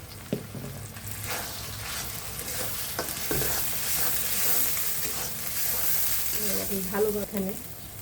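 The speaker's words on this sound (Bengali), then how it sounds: "ভালোভাবে কষিয়ে নিচ্ছি।" Fish curry spices with chili powder are sautéed in a pan, with a steady sizzle under repeated scraping and stirring strokes and a few clinks of the spoon.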